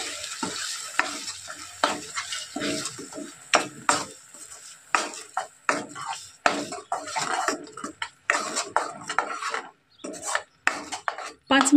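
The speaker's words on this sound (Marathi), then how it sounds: "चांगलं मिक्स करून घेऊ।" Besan vadi curry masala is stirred in a pan, the spoon scraping in quick, irregular strokes over a soft sizzle of oil, close and steady.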